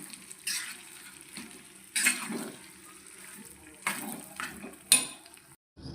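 Tempering being stirred into chintamani chutney in a pan: soft scraping and mixing sounds with a few louder clunks of the spoon against the pan, fairly close, with no talk.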